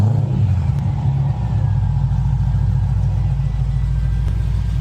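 A Pontiac GTO V8 idles after a cold start with a steady, deep low rumble, loud and close, holding an even pitch throughout with no voices over it.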